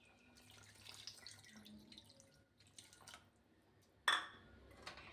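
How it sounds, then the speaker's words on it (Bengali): Water poured from a bowl into a cooking pot of sautéed greens with turmeric for an Assamese fish-and-greens curry; a quiet, faint trickle with a brief sharper splash or clatter near the end. "2 বাটি জল দিয়ে দিচ্ছি,"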